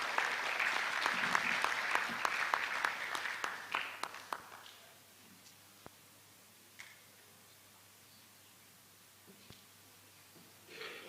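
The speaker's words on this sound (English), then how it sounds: "Please welcome her with a round of applause." Audience applause at a medical college induction ceremony, the West African College of Surgeons annual meeting, loud and dense for about four seconds, then fading to a few scattered claps over quiet room tone.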